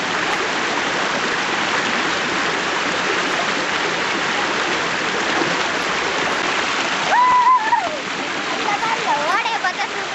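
A forest stream rushes in a steady, broadband wash of flowing water, close and loud throughout, with brief voices rising over it near the end.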